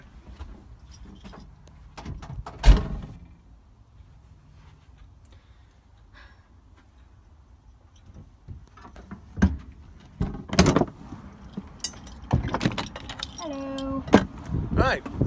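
A 2002 Mercedes-Benz 316 CDI Sprinter Auto-Trail Scout diesel motorhome door being handled, with sharp clunks and latch clicks, keys jangling and rattles amid quiet outdoor background and occasional voices nearby.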